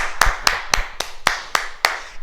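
A fitness class claps for itself, seven sharp, evenly spaced claps in a steady rhythm, close and loud in a quiet room.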